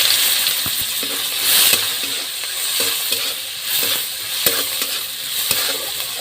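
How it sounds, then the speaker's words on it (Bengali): Chopped onion sizzling in hot oil in a pan, a steady hiss of frying punctuated by repeated scrapes and clicks of stirring, close and alone without talk. "তেলে দিয়ে দেবো পেঁয়াজ কুচি।"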